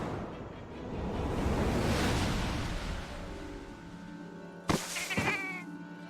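Cat meowing in Final Fantasy XIV: a few clear, loud meows near the end, over a steady wash of game ambience and music.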